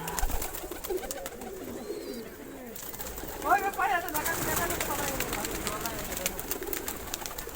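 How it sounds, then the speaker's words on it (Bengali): A crowded loft of domestic pigeons of several breeds coos in low, rolling murmurs, partly under nearby voices talking. "দেখ খালি পায়রাই পায়রা, পায়রাই ভর্তি।"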